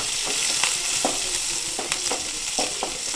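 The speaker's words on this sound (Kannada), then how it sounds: "ಇಲ್ಲಿ ಈರುಳ್ಳಿಯನ್ನು ಆ್ಯಡ್ ಮಾಡಿ ಒಳ್ಳೆ ಮಾಡಿ ಫ್ರೈ ಮಾಡುವ." Onions frying in hot oil with curry leaves and tempering for a Mangalore-style squid sukka hiss and crackle steadily, with a spoon scraping and stirring the pan in regular strokes, close by and without talk.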